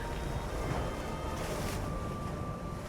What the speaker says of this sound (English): Boundless black waves surge in from all directions.